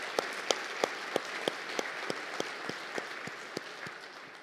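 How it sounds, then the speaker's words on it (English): Applause from an audience at an opening-remarks event, sparse and steady with distinct individual claps standing out over a soft wash, lasting a few seconds without voices. "Let's give them all a round of applause."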